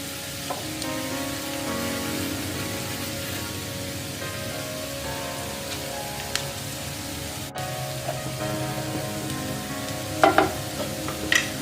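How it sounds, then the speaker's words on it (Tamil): Leftover idli pieces fry with onion in a masala gravy in a pan, giving a steady close sizzle throughout with a few stirring knocks near the end and no talking. "இந்த கிரேவியில் இந்த ஆனியனோட இந்த இட்லி வந்து நமக்கு நல்லா ஃப்ரை ஆகணும்"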